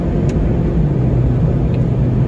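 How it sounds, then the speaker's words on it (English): A 2018 Mazda MX-5 Miata engine drones steadily while driving, a continuous low rumble with road noise and no voices. "it's kind of fun to just, you know, listen to this engine"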